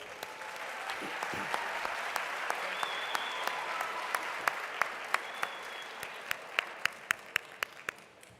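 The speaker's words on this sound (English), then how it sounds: "Can we give you a round of applause?" An audience at a honour society new member recognition ceremony claps steadily for several seconds, a dense, moderately loud applause with a few sharp individual claps standing out near the end.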